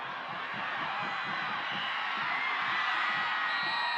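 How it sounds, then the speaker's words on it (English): Fans at a high school football game cheer and whoop together, with a dense, sustained crowd roar that builds slightly, a few voices calling out within it. "And the crowd goes wild"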